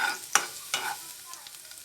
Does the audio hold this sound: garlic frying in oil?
yes